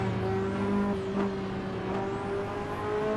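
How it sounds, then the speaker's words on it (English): A car in Assetto Corsa is downshifted, its engine revving up and falling in quick rising and falling whines over a steady drone, close and continuous, with no talking. "just fucking dropping it in gear. Downshifting is dope."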